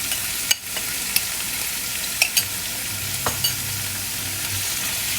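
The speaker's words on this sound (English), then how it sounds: "here I'm going to add in my tuna" Canned tuna sizzles as it is stirred into a hot pan with chili for spicy fried rice, a steady frying hiss broken by a few sharp scrapes and clicks of the spatula, close and without talk.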